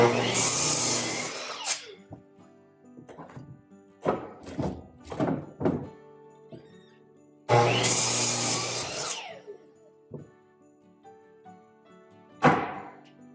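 A power drill boring a hole in a piece of wood, two loud bursts of whirring and grinding separated by quieter knocks and handling thumps, with a few brief voices between.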